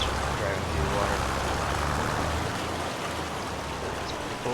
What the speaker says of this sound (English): we got different sound effects for while it's driving through the water